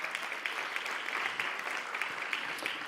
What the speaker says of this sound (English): All right, let's have another round of applause.